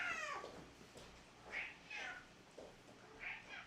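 A pet cat meows several times in a quiet indoor room, short rising calls spaced about half a second apart, close and clear.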